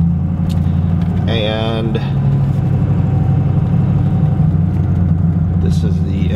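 A car drives slowly out along a residential driveway toward a highway, its steady low engine rumble running throughout with a brief higher whine partway in, while a person talks over it.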